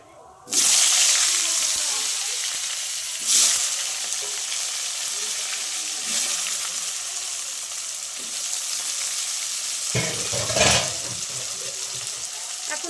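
Potato pieces frying in hot oil for a snakehead fish curry, a steady loud sizzle with a burst as the potatoes go in and a few louder crackles and stirring scrapes along the way.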